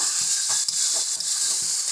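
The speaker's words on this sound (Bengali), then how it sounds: "এটাকে আরও ভালো করে কষিয়ে নেব" Minced chicken and potato mixture being sautéed in a pan, a steady close sizzle with soft rhythmic scraping as it is stirred.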